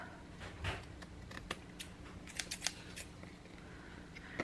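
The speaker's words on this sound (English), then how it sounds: "I need to make sure it's going to fit inside the envelope, so I'll cut that" Scissors trim a paper greeting card close up, making a series of crisp snips and crunches at an uneven pace, with a few louder cuts in the middle and no voices.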